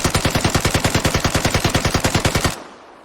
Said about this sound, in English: I'm gonna hold down the trigger, not aiming, I'm not gonna control the recoil.